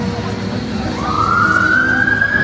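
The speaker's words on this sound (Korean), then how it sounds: "어김없이 들리는 사이렌." Emergency siren wailing in the distance over night street noise in rainy London, rising and holding a long drawn-out tone.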